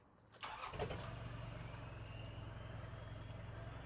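A Mitsubishi Pajero engine cranks briefly and catches, then settles into a steady low idle with a regular rhythmic chug, close by and fairly quiet.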